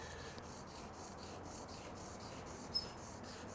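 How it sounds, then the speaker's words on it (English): Wet sandpaper rubbing a car's clear coat to work out deep scratches, a faint, even back-and-forth swishing in steady strokes, close and alone. "Let the sandpaper do the work."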